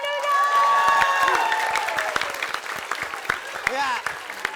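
Studio audience applauding and cheering at an Indonesian comedy variety show, dense clapping that swells loud at first and thins out over several seconds, with voices shouting over it.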